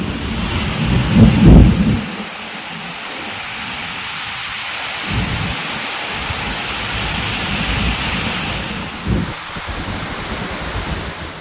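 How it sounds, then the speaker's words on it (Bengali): A thunderstorm roars nearby, with a loud rumble of thunder early on, followed by steady heavy rain drumming on surfaces that continues without a break. "ওপর ঘরে এসে দেখি উঠেছে তুমুল ঝড়"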